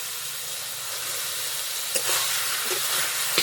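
Fried pointed gourd and okra sizzling in a pan of cooked-down spices, a continuous frying hiss with a few stirring scrapes and pops toward the end.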